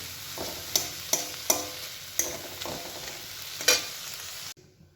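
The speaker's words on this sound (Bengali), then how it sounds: "আর পেঁয়াজগুলো আস্তে আস্তে নরম করে করে ভাজবো।" Onions softening in a frying pan for chili paneer, with a steady sizzle broken by several sharp scraping clinks of a spatula stirring them, close and clear; the sound cuts off abruptly near the end.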